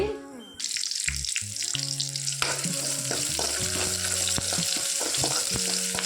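Chopped shallots hit hot oil with curry leaves, and a loud sizzle bursts up after a brief quiet moment and then holds steady, with light stirring and faint tonal background sound.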